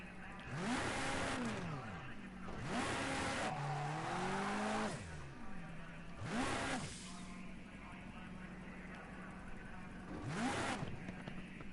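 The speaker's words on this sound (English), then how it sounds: "I'm gonna hope we can see the cars as they head out of the last corner" Race cars in a historic endurance race on the combined Nürburgring in a racing game pass by in repeated rising and falling engine sweeps as they accelerate out of the last corner, with a voice talking over them.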